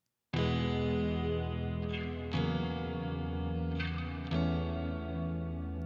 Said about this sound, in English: It's like a really nice, long reverb that sounds really good on guitar.